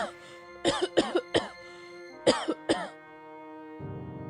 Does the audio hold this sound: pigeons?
no